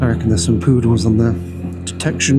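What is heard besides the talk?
None of the usual background noises is heard.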